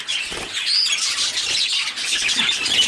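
Pet birds kept in cages chirp and tweet continuously, a busy overlapping chorus of high, bright calls heard up close with no talking.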